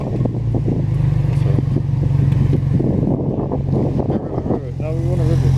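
A JDM car engine idles and revs, its steady low rumble rising and falling with wind buffeting the microphone, while people talk nearby.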